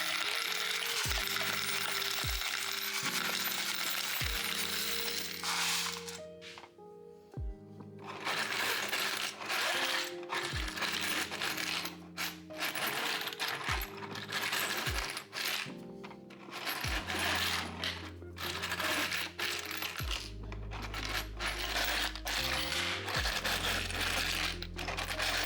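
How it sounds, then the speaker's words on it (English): Metal bolts drop into a 3D printed screw sorting device, giving a series of sharp clinks and rattles at irregular intervals, each followed by brief mechanical clatter, close and fairly loud, with no talk. "Time to drop some bolts in here."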